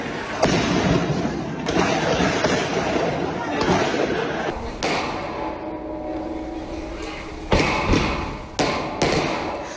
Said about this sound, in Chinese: 可以听到那个军人啊，杀红了眼，仰光街上啊，枪声大作。